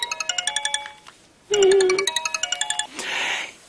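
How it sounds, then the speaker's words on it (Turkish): A fast, repeating electronic ring trills in bursts, broken by a brief buzzing tone and a whooshy electronic sweep, close and fairly loud. "Ama kapının değil telefonun zili çalıyor."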